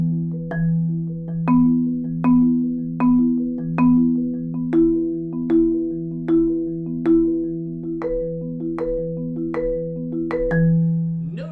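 Four mallets play a marimba-style permutation exercise with accents moving through the pattern, giving a steady, even stream of struck tones where accented notes stand out over soft ones. The playing is clear and close, with no talk.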